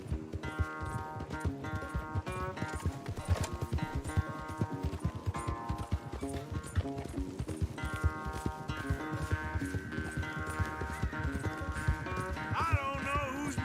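Horses gallop in a race in the video game Red Dead Redemption 2, rapid rhythmic hoofbeats pounding close and continuous under a music score, with a voice speaking briefly partway through.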